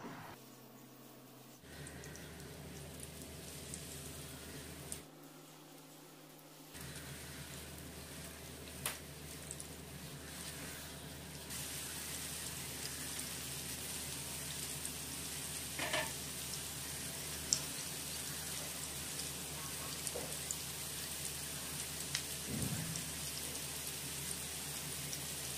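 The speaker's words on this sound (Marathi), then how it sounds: "सुरमईच्या तुकड्यांना गोल्डन ब्राऊन कलर येईपर्यंत फ्राय करून घ्या." Surmai (kingfish) pieces fry in hot oil, giving a steady, dense sizzle that holds throughout with faint crackles and spatters rising over it.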